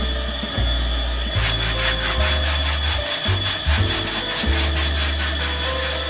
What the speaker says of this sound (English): I got a nice hard bristle brush, and we're gonna start scrubbing away and getting all this mud off.